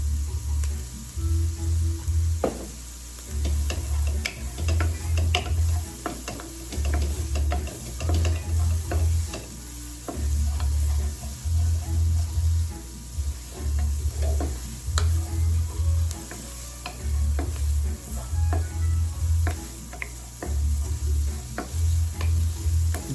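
Onion and pork sizzle steadily in avocado oil in a pan, a loud continuous frying hiss with small crackles and a rhythmic low pulsing hum underneath, no voices.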